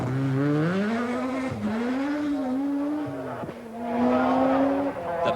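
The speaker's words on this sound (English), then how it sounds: "Hard on the brakes comes Ingvar Carlsson in the Mazda RX-7." A Mazda RX-7 rally car at the 1985 Lombard RAC Rally: the engine drones and pitches up and down as the car brakes hard, with tires scrubbing on the surface; a voice talks over part of it.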